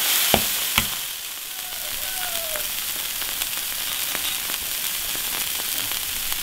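Stir-fried duck in a wok sizzles and crackles loudly after water is added, a steady frying hiss with a couple of sharp pops near the start and scattered crackles throughout.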